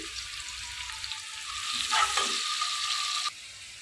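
Bottle gourd pieces with onion fry in a hot pan for a Bengali lau chingri dish, a constant close sizzle that swells midway and then drops away abruptly near the end.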